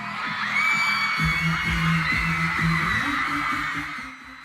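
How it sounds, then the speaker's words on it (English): A large crowd of thousands of women opening bid cards screams and cheers at high pitch, sustained and loud, with thumping beats underneath that fade toward the end. "that is the sound of thousands of women opening up their bid cards"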